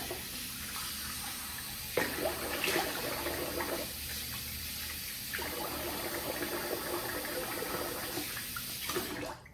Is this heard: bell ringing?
no